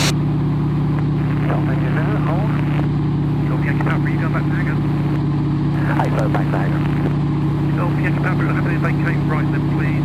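A T6 Harvard piston-engine aircraft taxiing at an airshow, its steady engine drone running throughout beneath intermittent talk over the radio and intercom.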